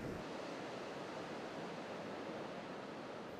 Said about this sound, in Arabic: مع تقلب امواج البحر